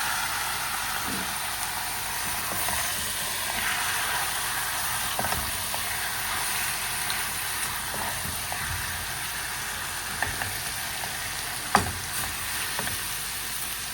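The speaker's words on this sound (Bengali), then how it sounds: "এখানে এই যে দেখো পাঁচফোড়ন একটু ভাজা করে দিচ্ছি" Panch phoron five-spice sizzles steadily in a hot pan, a constant crackling hiss with a few sharper pops, heard close with no talking.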